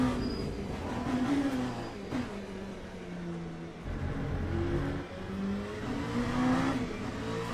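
Race car engines in Le Mans Ultimate rise and fall through gear changes, a continuous droning roar with repeated revving sweeps and shifts, close and loud throughout.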